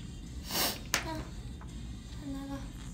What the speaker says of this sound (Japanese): やばい、くしゃみ。